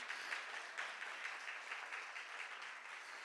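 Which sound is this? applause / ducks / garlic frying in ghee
applause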